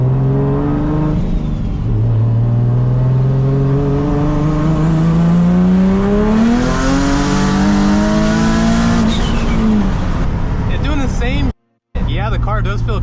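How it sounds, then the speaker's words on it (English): A BMW G82 M4 with an aftermarket swan-neck wing accelerates hard in third gear. Its loud engine note climbs steadily and close for over ten seconds, then cuts out briefly near the end. "I'm just gonna roll into third because I just want to see what third gear is gonna do."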